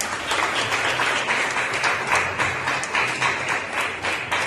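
A congregation applauds at a youth church service, dense steady clapping from many hands filling the room, loud and continuous throughout.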